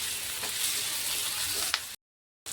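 Byadgi and round chillies frying with onion in a pan for a dhaba-style egg gravy, a steady close sizzle and hiss with a sharp crackle pop, briefly cut to silence before resuming.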